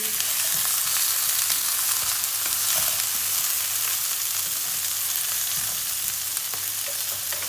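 Soup ingredients sear in a large pan with a loud, continuous sizzle and crackle of hot oil, close up, with faint stirring scrapes and no talking.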